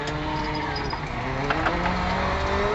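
Rally car engine in a driving simulator video game, revving with shifting pitch over gear changes and a brief tire squeal, steady and fairly loud with no talk.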